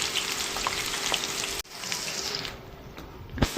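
Ivy gourd pakodi frying in oil, a loud continuous crackling sizzle that dips briefly then carries on, ending with a short clatter of stirring, close with no talking.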